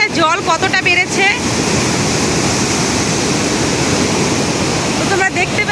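High river water at Gajoldoba rushes in a loud, steady broadband roar that fills the whole stretch, with brief voices at the start and the very end.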